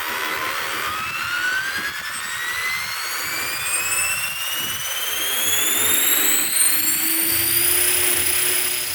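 An RC Blackhawk helicopter spools up with a rising turbine-like whine whose pitch climbs steadily. A low, throbbing rotor beat builds beneath it, loud and close, with no speech.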